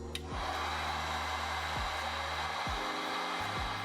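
A heat gun or hair dryer applies mild heat to a Jordan 4 sneaker sole to tack it down. The blower gives a steady, close whooshing roar with a few brief dips in pitch.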